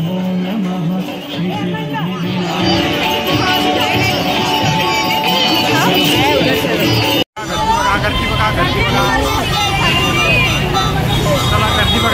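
Dense crowd babble fills a packed square outside the Dagdusheth Halwai Ganpati temple in Pune during the Ganpati festival, a steady loud roar of many voices with traffic hum beneath and a momentary dropout midway.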